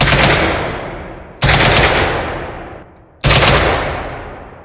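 Three long bursts of automatic fire from an AK-20 rifle shooting subsonic rounds at an outdoor range, each rapid string loud and close, separated by brief pauses.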